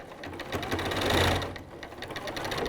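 A sewing machine sews in a concealed zipper, running continuously with a fast, even mechanical stitching rhythm, close and fairly loud throughout.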